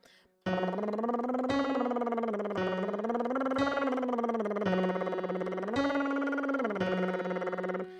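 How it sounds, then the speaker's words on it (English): Sung lip trills run through a steady series of rising and falling scale lines, alternating between major and Lydian mode. The voice is buzzy and continuous, with short breaths between phrases, and stays close and solo for the whole passage. "We're going to go between major and Lydian mode on lip trills."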